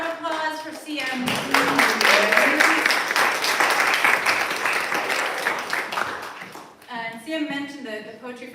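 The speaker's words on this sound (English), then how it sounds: "One more round of applause for CM." An audience at an evening poetry reading breaks into sustained applause, a dense wash of clapping lasting several seconds, with a person speaking into a microphone just before and again as the clapping fades.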